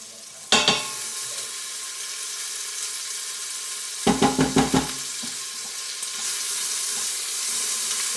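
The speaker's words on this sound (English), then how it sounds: "So I'm going to add the butter." Butter goes into a hot frying pan of gnocchi bolognese and sizzles sharply, with a steady frying hiss throughout. A few quick clatters of stirring sound near the middle.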